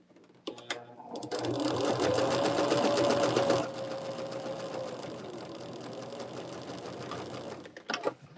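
A sewing machine runs continuously for several seconds, stitching a Jacob's Ladder quilt block, a fast, loud, close mechanical whir that steadies slightly partway through before stopping, with a few small clicks at the start and end.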